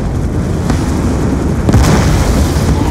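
A loud, rumbling explosion in the video game Black Ops 2 booms out with deep low-end thunder, with a sharp burst about two thirds of the way through amid continuous noisy rumble.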